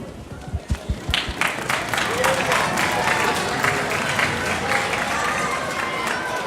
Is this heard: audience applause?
yes